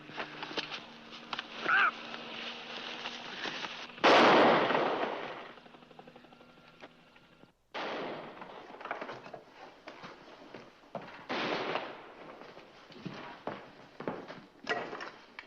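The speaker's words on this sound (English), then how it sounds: "Just heard gunshots. 3 of them." Three gunshots ring out at a ranger station, loud sharp reports spaced a few seconds apart against a background hum, with a broad burst near the start of the sequence.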